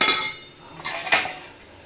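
Spoons knock against a brass plate, making a few bright metallic clinks and scrapes close by, with a sharper pair of chimes near the end.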